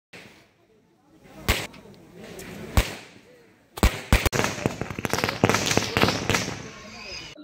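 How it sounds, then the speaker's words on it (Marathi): Firecrackers burst at a village council election celebration after a sarpanch is chosen unopposed: a few isolated sharp bangs, then a dense, loud, irregular string of cracks and pops close by. "फटाक्याची आतिषबाजी करत"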